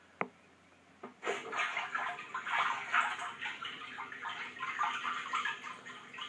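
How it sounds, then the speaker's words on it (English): Water surges into a Fimco spray tank from a bottom inlet, making a faint, continuous turbulent churning and splashing after a couple of sharp knocks at the start. "But I'm pushing the water in from the bottom, and it's very turbulent."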